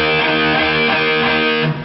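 Distorted electric guitar power chord on the 5th and 4th strings, picked with a plectrum in a steady run of repeated downstrokes, loud and close with no talking.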